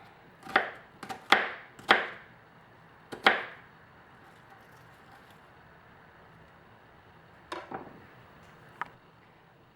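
Knife chopping vegetables such as tomatoes, red onion and green bell peppers on a wooden board: a quick burst of sharp knocks, a lone chop, then two more after a pause, crisp and close.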